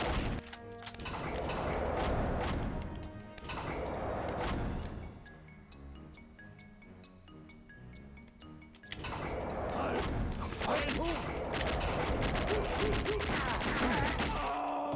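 Harsh, dense gunfire bursts from Wolfenstein 3D on the 3DO fill two long stretches, loud and close, with a quieter musical gap between them and a voice talking over the action.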